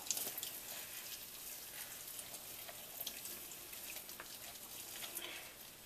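Boiled water is poured slowly over spinach leaves in a sieve, a faint, continuous hissing trickle and splash that runs steadily throughout.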